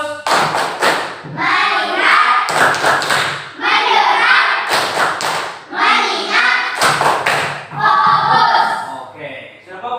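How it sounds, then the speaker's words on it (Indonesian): A class of children performs the 'tepuk fokus' rhythmic clapping routine, with loud clap and thump patterns in bursts alternating with chanted group voices. "silakan kita tepuk fokus terlebih dahulu"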